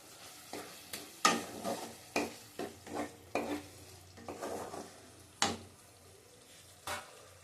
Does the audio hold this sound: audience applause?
no